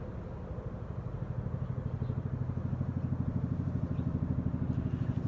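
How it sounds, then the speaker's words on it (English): A low, steady road-traffic roar fills the air outdoors, a continuous rumbling drone with a faint rhythmic pulse, building slightly and staying moderately distant throughout. "I can actually hear a stronger roar of traffic"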